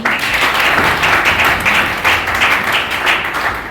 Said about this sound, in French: les applaudissements pour elle